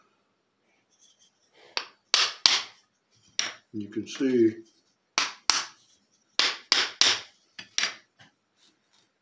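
A small homemade hammer drives a wooden wedge into a wooden lap vise with a series of sharp, close knocks in uneven bursts, while someone speaks briefly between strikes.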